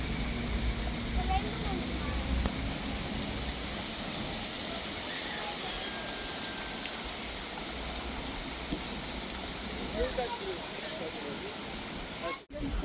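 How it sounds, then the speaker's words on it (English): Heavy rain falls at Seven Mile Beach on Grand Cayman, a dense, even wash of rain noise that holds steady throughout with no pauses. "The rain was heavy at times"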